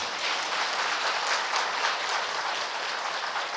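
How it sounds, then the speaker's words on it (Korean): Sustained applause from a large church congregation, a dense, even clatter of clapping that holds steady without pause. "박수 한번 쳐주십시오"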